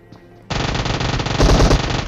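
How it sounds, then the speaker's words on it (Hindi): A fast, continuous burst of Uzi submachine gun fire in the PUBG Mobile video game, loud and close, starting abruptly after a brief quiet moment and intensifying toward the end. "यहाँ पे उजी की 25 बुलेट की प्री फायर ने मुझे बचा लिया"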